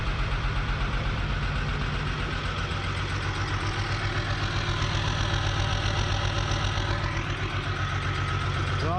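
The diesel engine of a 1975 Chevy stepside pickup idles steadily and loudly at close range, with a rough, knocking pulse that continues without a break throughout.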